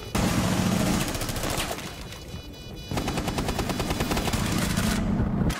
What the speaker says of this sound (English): while getting shot at by the sniper